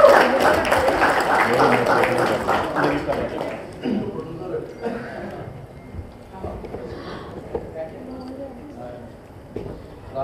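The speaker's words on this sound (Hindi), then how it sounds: "कमाल इन सभी के लिए जोर भरा तालियां बजाइए" An audience claps at a poster launch event for the film Chandni Bar 2, a dense patter of applause running throughout, louder at the start and thinning later, mixed with an amplified voice talking.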